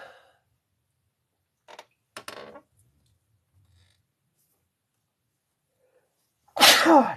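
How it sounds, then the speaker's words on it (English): A single loud, explosive sneeze bursts out near the end, preceded by a few faint breathy sounds and quiet intakes of breath. "I have to sneeze."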